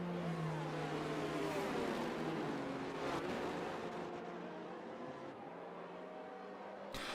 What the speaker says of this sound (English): the safety car being very loud. As it's a Mercedes AMG Black Series. The exhaust tone out of that car is absolutely beautiful